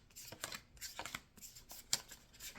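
A deck of Spiritual Warfare oracle cards shuffled by hand, quiet papery riffles and soft slaps in an irregular run of bursts, close and faint, with no one talking.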